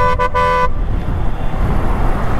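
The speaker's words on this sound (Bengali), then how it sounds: "যদিও শব্দ দূষণ হয় হর্ন দিয়ে, কিন্তু কিছু করার নাই" Car horns honk on a busy highway in Dhamrai, two short toots ringing out close by at the start, followed by a steady rumble of passing traffic.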